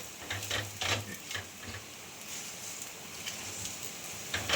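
Beetroot pudla batter pancake cooks in oil on a pan with a soft, steady sizzle, broken by a few close clinks and scrapes of a spatula against the pan at irregular intervals.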